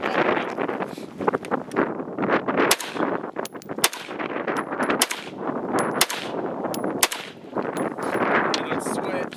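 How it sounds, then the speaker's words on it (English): Five unsuppressed rifle shots fired through a MicroMOA adjustable gas block at its optimal gas setting, each a sharp loud crack spaced about a second apart, with wind buffeting the microphone between them. "let's do 5 shots with off in the optimal gas setting,"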